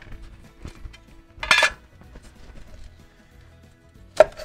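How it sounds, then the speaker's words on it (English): Broccoli and other vegetables dropped into a pot for chicken and dumplings, two distinct clattering impacts about three seconds apart against quiet kitchen background with faint knocks. "Throw a little bit of this broccoli in as well."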